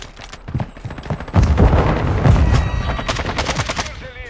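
TAQ-56 assault rifle firing in Modern Warfare 2, loud rapid bursts of automatic gunfire with heavy booming low end, near and continuous through most of the stretch amid game noise.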